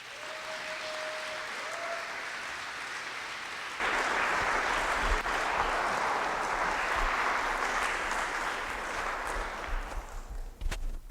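Audience applause welcoming a speaker at a talk on shamanism, starting suddenly after a brief tone and swelling into steady, dense clapping from a full room that lasts several seconds before thinning out.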